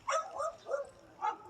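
Several dogs in an outdoor dog yard of about 35 dogs and pups, faint yips and barks in short bursts at a distance.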